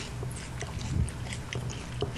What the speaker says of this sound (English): chewing on chips